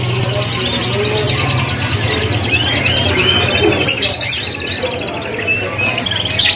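F1 canaries in cages at the busy Pramuka bird market sing continuously in dense, bright trills and chirps, with other birds overlapping close by and loud throughout.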